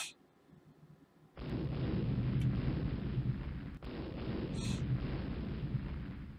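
Naval gunfire from warships in the Rule the Waves game, a sudden deep roaring salvo that rumbles on continuously, with a brief dip before the heavy boom resumes at moderate level.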